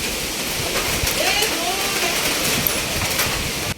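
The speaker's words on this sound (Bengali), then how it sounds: "প্রতিদিন বিকাল হলেই ঝড় বৃষ্টি শুরু হয়ে যাচ্ছে" Steady heavy rain pouring down, a dense broadband rush with the low rumble of wind beneath, continuous and close.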